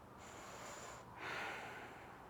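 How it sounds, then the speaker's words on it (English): Slow breathing during a yoga class, a soft steady inhale followed by a slightly louder, airy exhale, close and quiet with no talk. "Breathing."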